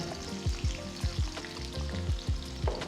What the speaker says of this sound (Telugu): పొడవగా తరిగిన రెండు ఉల్లిపాయలు వేసి రెండు నుంచి మూడు నిమిషాలు వేయించుకోవాలి